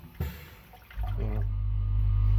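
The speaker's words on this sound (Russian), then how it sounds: "Сенсорная кнопка и вакуумный смыв унитаз" Vacuum toilet on a Yakutsk–Vladivostok passenger train flushing: a short sharp rush of air and water, then a loud low roaring suction that builds and holds to the end, close by.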